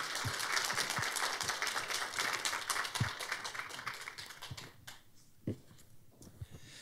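Church congregation at a Wednesday worship service claps to welcome the preaching pastor, fairly quiet dense applause that thins out near the end into a few scattered, separate claps.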